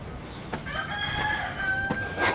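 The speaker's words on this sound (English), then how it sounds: "There's the compulsory rooster." A rooster crows once in Grenada, clear and fairly near, its drawn-out call rising over light outdoor background noise.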